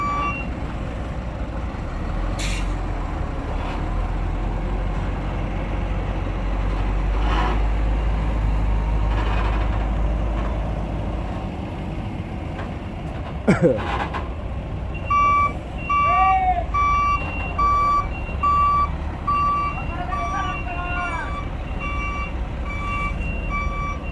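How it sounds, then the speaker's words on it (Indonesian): A large monster truck moves slowly at a port onto a ship, with a low engine rumble, a brief knock, and a long run of steady reversing beeps over the second half. "Soalnya emang tinggi mobil kita ini harus naik kapal Royal yang paling aman ya"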